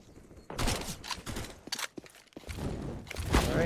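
Rapid gunfire and movement in a Counter-Strike: Global Offensive esports match on the Inferno map, with dense bursts of shots and footstep-like clatter that come and go in quick waves.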